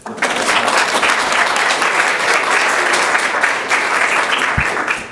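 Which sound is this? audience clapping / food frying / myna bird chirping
audience clapping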